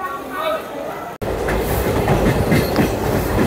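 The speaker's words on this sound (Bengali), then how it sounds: "আর নিউ ফারাক্কা জাংশনের 3 নম্বর প্ল্যাটফর্মে আমাদের ট্রেন এসে ঢুকেছে।" A train rolls into platform 3 at New Farakka Junction railway station with a loud, close rumble and rhythmic clatter of the wheels, after an abrupt cut.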